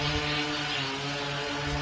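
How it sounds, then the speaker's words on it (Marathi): A drone flies in the Motel Superstore Simulator video game, giving a steady, even mechanical hum with a layered buzzing drone throughout, with no talk over it. "बघू शकता तुम्ही, हा ड्रोन आलेला आहे."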